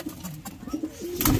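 Close pigeon cooing from a male and female pair, a series of soft low burbling calls with wing or body rustles and a brief brighter flutter near the end, with no one talking.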